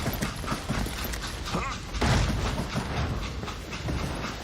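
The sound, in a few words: train in Call of Juarez: Gunslinger video game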